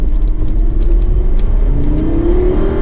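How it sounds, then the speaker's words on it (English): An Italian car engine roars loudly and continuously, its pitch climbing steadily as it revs up, close and dominant with no talking. "Listen to the roar of that Italian engine"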